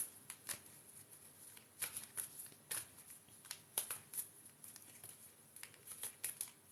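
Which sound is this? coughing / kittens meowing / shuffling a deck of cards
shuffling a deck of cards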